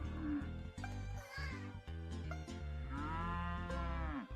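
A cartoonish cow in the Purple Cloud video game moos in several drawn-out, wavering calls, loud and near, layered over steady game music.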